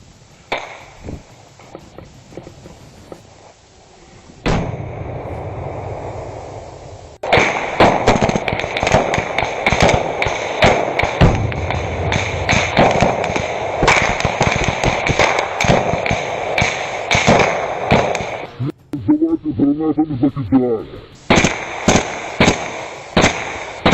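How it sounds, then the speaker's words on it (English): Several grenades bursting in and around a dugout during combat, a dense run of sharp cracks and bangs over roughly twenty seconds with rapid irregular impacts and a brief lull before more blasts. "Few grenades land in the dugout"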